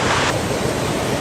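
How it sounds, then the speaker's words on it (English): A mountain stream on Mt Feathertop's North West Spur flows with a steady, close rushing wash of water, unbroken for the whole moment with no voices. "we just come across this beautiful stream"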